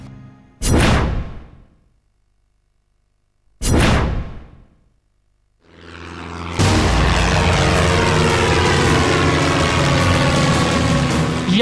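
An attack helicopter during a bombing strike on a building: two sharp whooshing blasts a few seconds apart, then a loud, steady roar of aircraft noise that fills the rest of the stretch.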